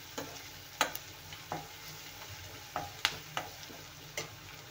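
Ginger and garlic frying in oil, a quiet low sizzle with sharp intermittent clicks and taps of a spoon stirring against the pan at irregular intervals.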